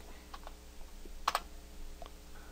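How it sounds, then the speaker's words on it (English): Quiet, sparse keystrokes on a computer keyboard in a room, a few soft clicks spread out with one sharper double tap, alone and without talk. "I'm going to start typing"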